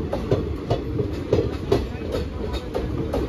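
Another train passes alongside a moving Kolkata–Jammu Tawi Express 13151, a loud steady rumble with rhythmic clickety-clack of wheels over rail joints repeating about every half second.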